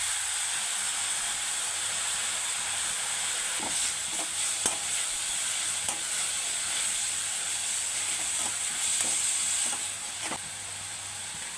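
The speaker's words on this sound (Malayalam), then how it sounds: "അതിനിട്ട് ആ സവാള ഇട്ട് കൊടുക്കുക" Sliced onions frying in hot oil for a tomato curry, a steady sizzle with intermittent scraping stirs of a spoon against the pan, close and fairly even throughout.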